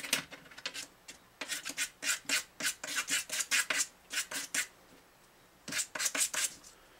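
A file rasps back and forth against a bone guitar saddle, smoothing its edges in close, quiet bursts of rhythmic strokes with short pauses between sets.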